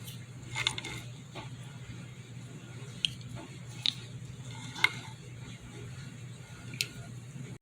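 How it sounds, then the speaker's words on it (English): Seasoned ground beef for cheeseburgers being mixed by hand gives soft, wet squishing and occasional faint clicks against a bowl, low and close over a steady background hum. "So let's get this mixed up."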